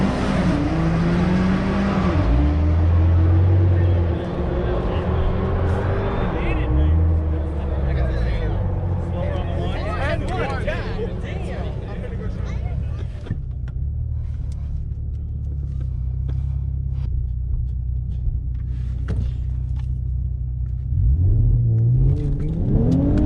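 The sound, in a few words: car accelerating on drag strip run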